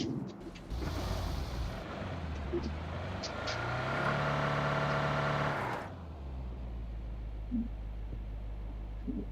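A car engine in the BGMI battle game drones and revs steadily for several seconds before cutting off, with squad voices chattering over it.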